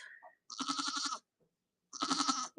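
Baby goats bleat in a barn, two loud, wavering bleats about a second long each, separated by a short silence, close and clear with no talking.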